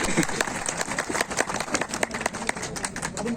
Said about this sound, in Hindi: मैं पहले आप सबसे आग्रह करूंगा कि एक बार हृदय से ताली बजाकर आप उनका अभिनंदन करें।